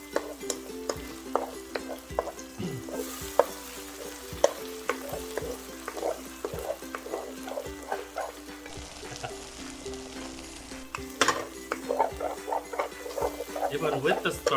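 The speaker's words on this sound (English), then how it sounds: "I'm gonna cook about 4 to 5 ounces of egg" Vegan egg substitute frying in a pan for vegan pad thai, a steady sizzle with frequent stirring scrapes and small pops, with a voice talking at times over the cooking.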